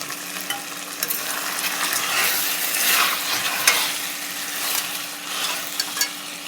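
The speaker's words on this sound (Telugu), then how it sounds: "ఫ్లేవర్ కోసం కొంచెం పుదీనా వేసి మిక్స్ చేస్తున్నాను." Chicken stirred with mint in a pot, with a continuous moist sizzle and soft irregular scraping of a spoon, close and steady, and no talking.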